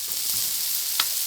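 Rice on a hot griddle gives off a soft, steady sizzle with one brief sharper crackle near the end, heard alone without any voices.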